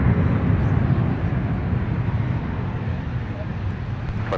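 A Metroliner turboprop taxiing at Minneapolis–Saint Paul airport gives a steady, loud engine drone with broadband rumble that holds throughout and eases slightly toward the end.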